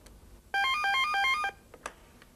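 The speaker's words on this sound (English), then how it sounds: "I'm going to make another phone call to Joe on his other telephone" An electronic telephone ringtone for an outgoing call: one bright, warbling trill about a second long, followed by a few soft clicks in a quiet room.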